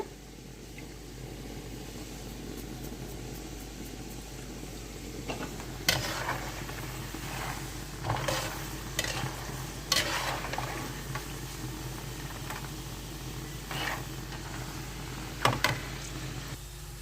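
Kara boondi, gram flour batter seasoned with cumin powder and chili, fries in hot oil with a continuous close sizzle, broken by bursts of stirring and scraping clinks from a ladle against the pan.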